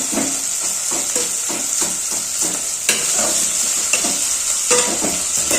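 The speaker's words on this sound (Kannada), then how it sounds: "ಹಸಿಮೆಣಸಿನಕಾಯಿ ಮತ್ತು ಈರುಳ್ಳಿ ಫ್ರೈ ಆಗಿದೆ" Onions and green chillies fry in a hot pan for village-style lemon rice, with a steady close sizzle and hiss broken by repeated scraping stirs of a spatula, rhythmic and continuous throughout.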